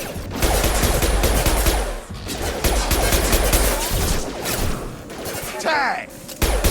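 Gunfire in Mass Effect 2 during a colony firefight, dense rapid bursts and impacts running almost continuously and loud, with a short lull near the middle and a whooshing sweep near the end.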